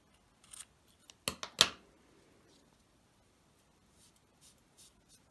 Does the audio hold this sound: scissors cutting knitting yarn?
yes